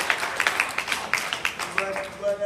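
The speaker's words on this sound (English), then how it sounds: "Clap now." Scattered audience clapping at a motivational talk, a short run of distinct, fairly close claps in an uneven rhythm that thins out toward the end, with a voice faintly present.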